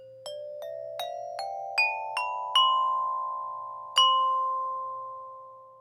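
Eight clear, bell-like musical notes step upward one after another to span an octave, each struck cleanly and left ringing, with a longer pause before the final note, which fades slowly.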